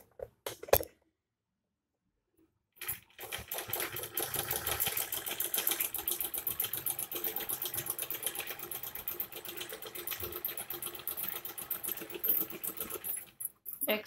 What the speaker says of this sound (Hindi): यहाँ पे भी सिलाई लगा देंगे